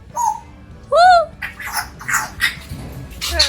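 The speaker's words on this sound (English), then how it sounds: "That's the grey parrots." Grey parrots at a park in Nigeria give sharp whistles and squawks, a couple of loud rising calls followed by rapid chattering squeaks, fairly close.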